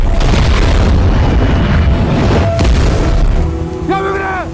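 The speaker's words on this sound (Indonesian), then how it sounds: "Sayangnya sebelum korban ditemukan, gas meledak" Gas explosion inside an apartment, a loud deep boom with roaring rumble that fills the scene and slowly decays, followed by a brief tonal whine as it fades.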